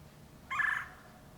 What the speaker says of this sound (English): Got a cool sounding bird up there.